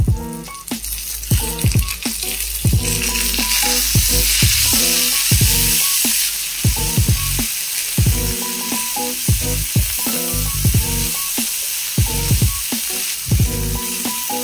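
Ginger, garlic, chili, asafoetida and coriander leaves frying in oil make a loud, continuous close sizzle, with rhythmic scraping strokes of a spatula stirring the pan throughout.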